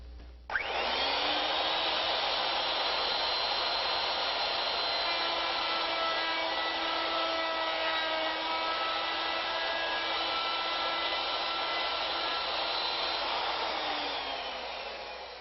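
A router-type cutter on a lathe setup shapes a half-inch bead on a wooden cane handle, a steady high-pitched whining motor with a continuous cutting rasp that runs loud and unbroken for about fourteen seconds before spinning down.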